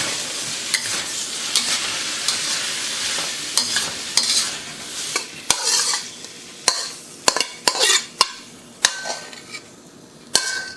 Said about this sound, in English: So put back the beef with the ginger and garlic. Give it a final quick stir fry.